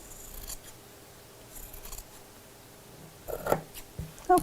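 Scissors trimming the bottom of fabric for a Christmas stocking, a few soft snips and rustles close by, with a sharper cutting sound near the end and no speech.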